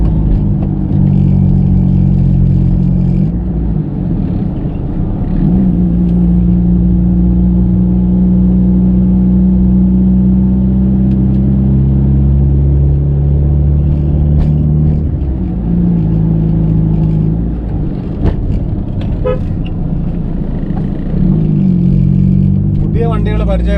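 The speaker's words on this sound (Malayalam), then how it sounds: "ഇതിലിരിക്കുന്ന എക്സോസ്റ്റ് കസ്റ്റം മെയ്ഡ് എക്സോസ്റ്റ് ആണ് കേട്ടോ." A Honda City VTEC Type 2 car fitted with a custom-made exhaust drives along, its engine giving a steady loud rumble with rises and dips in revs throughout, and a voice speaking now and then over it.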